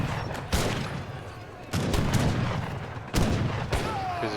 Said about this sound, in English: Because he's got mortars out, sieging the walls here.